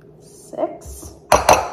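Melted butter and dry ranch mix stirred in a bowl for copycat pretzels, a few quick clinks and scrapes of a utensil against the bowl, loud and close, with brief speech in the clip.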